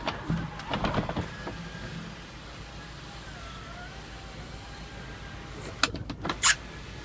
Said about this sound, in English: The roof motor's in good shape. Tilt it up, down. That all works fine.